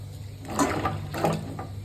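Dried loitta fish (Bombay duck shutki) being washed in water: soft sloshing and splashing in a few short bursts, fairly quiet and close, with no talking.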